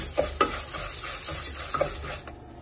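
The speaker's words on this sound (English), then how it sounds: "here I have my onion going in. I'm going to give that a head start and continue toasting and mixing." Chopped onion toasting and being stirred in a pan for sopa de fideo, with a light, steady sizzle under several scraping stirs of a utensil that land at uneven intervals.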